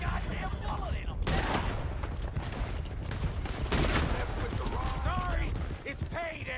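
Gunfire crackles through a robbery shootout at a stagecoach in the Western video game Red Dead Redemption 2, rapid shots over a dense, loud bed of game sound with hooves and shouting mixed in.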